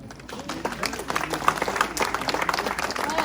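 A crowd at a Christmas shop-window and holiday-lights contest ceremony claps steadily and fairly loudly, with dense overlapping hand claps for about three seconds.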